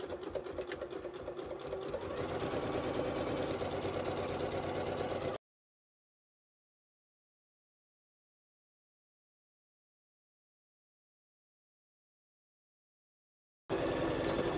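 A sewing machine stitches around a heart-shaped cushion at 1 cm seam, a close steady mechanical whirr for several seconds, then a long silence before the motor resumes briefly.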